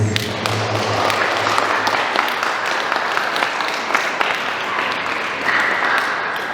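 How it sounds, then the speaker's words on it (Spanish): Wedding guests in a church ceremony applaud the newlyweds, a lively spread of overlapping claps with some sharper nearby hand claps and light thumps, steady for over six seconds with a brief low voice early on. "Fuertes palmas para ellos una vez más."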